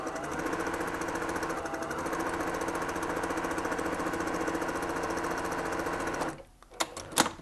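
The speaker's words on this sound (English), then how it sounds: "We go over to the sewing machine with a 1/4 inch seam allowance." A sewing machine stitches patchwork pieces for a 60-degree ruler quilt with a quarter-inch seam, running steadily and close up for about six seconds before stopping, followed by a few light handling clicks.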